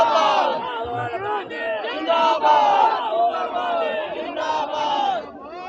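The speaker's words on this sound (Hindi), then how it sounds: "काफी भीड़ लग रहा है।" A protesting crowd at a Congress rally in Jharkhand shouts and chants loudly and continuously, many voices overlapping in raised, rhythmic cries.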